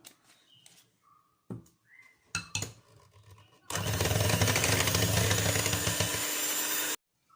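An electric beater whisks three eggs with a teaspoon of vanilla essence for a tutti frutti tea cake, starting with a few clattering knocks and then running loud and steady for about three seconds before cutting off.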